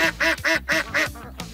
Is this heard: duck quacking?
yes